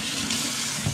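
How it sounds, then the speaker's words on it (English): Tap water running steadily in a home kitchen while hands are washed, a close continuous splashing hiss that lasts the whole short moment with no voices. "Let me just quickly wash my hands."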